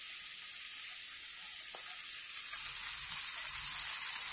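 Rice frying in a pan, a steady close hiss of sizzling oil with faint occasional stirring taps, no talking.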